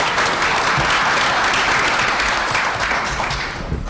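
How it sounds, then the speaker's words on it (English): Warm applause from a breakfast forum audience welcoming a panel moderator, steady and dense throughout before easing slightly at the end. "invite you to join me in a warm round of applause for our moderator"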